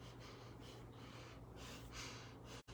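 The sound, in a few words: quick shallow breathing through the nose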